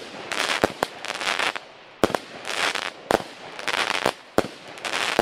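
Loud store-bought consumer fireworks going off nearby in repeated crackling volleys, punctuated by several sharp single bangs.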